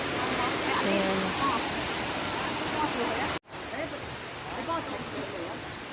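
A jungle river and waterfall rush steadily in a forest, a dense continuous roar that cuts out briefly midway and resumes, with faint voices under the water noise.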